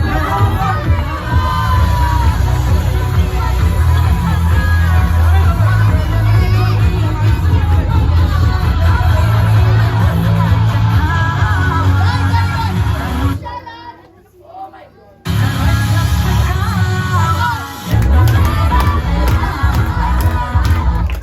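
A dense, loud crowd at an Indian New Year celebration cheers and whoops for performers coming on stage, a continuous roar that dips briefly near the middle before surging back.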